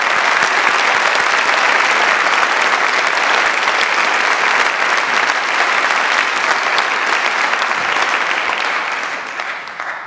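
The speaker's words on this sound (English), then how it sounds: "I would like us all to give one last round of applause for all" Sustained loud applause from an audience at an athletic hall of fame ceremony, a dense, even wash of clapping that holds steady and thins slightly near the end.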